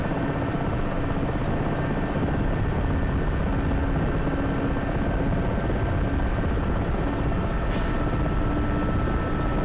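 A helicopter in a military video game keeps up a loud, steady rotor and engine drone with no break, flying away from the landing zone after dropping off troops.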